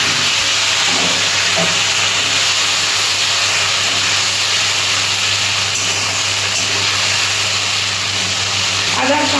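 Ginger, cumin and green chili paste frying in hot oil for a fish curry, a loud, steady, close sizzling hiss that carries on without a break.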